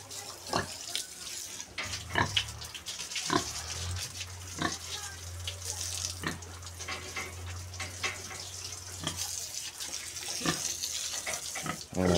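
A cow being bathed with water, splashing and pouring in repeated bursts with a steady low hum underneath and occasional voices in the background.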